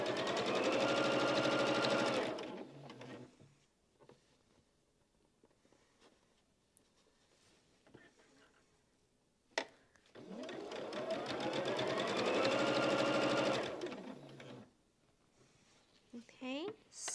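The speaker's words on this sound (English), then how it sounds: "I sewed those, and now I'm going to sew the units on the opposite corner" Sewing machine stitching baby quilt units, heard as two long, steady runs of rapid mechanical whirring up close, with quiet pauses and a soft voice in between.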